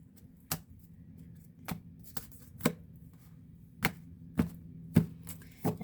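Sharp, irregular card slaps and riffles sound up close in a quiet room, about a dozen distinct taps spread unevenly.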